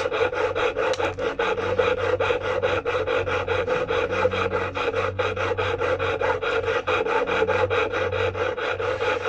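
A rapid, steady rasping of a dulling hacksaw-style blade cutting through copper wire, back-and-forth strokes repeating evenly, with a neighbour's lawnmower droning low underneath.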